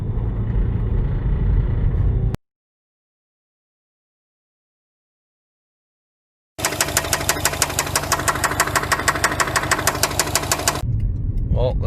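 Blown 2.5-litre turbo engine in a 2005 Subaru Legacy GT manual, knocking loudly with a fast, heavy rhythmic clatter, heard close up in two bursts separated by a few seconds of silence.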